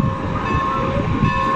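Steady rumble and hum of a train close by at the Strasburg train museum, with a sustained tonal whine over low rolling noise.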